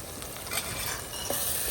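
Chili-garlic paste being stirred in a pan while cooking a palva fish curry, a soft continuous scraping and sizzle with faint clinks, steady and close, no voices.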